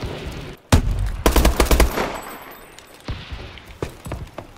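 Bursts of gunfire from the video game Call of Duty: Advanced Warfare, a loud rapid volley followed by scattered shots and impacts, with no talking over them.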